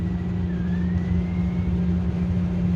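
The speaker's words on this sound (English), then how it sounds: "you can hear the spindle." A Laurell WS400 spin coater's spindle spins a substrate, producing a steady loud motor hum with a faint rising whine partway through.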